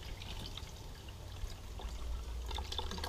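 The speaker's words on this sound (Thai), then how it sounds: "ใส่น้ำยะนางลงไปค่ะ" Yanang leaf juice is poured into a cooking pot, a soft, faint trickle of liquid running steadily for a few seconds, with no voices.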